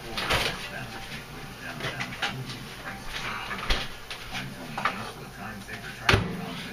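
A pot lid full of moist steam rattles on a kitchen counter while pancakes are made in a microwave, giving soft, uneven clinks and taps with a few sharper knocks that carry on under quiet room noise.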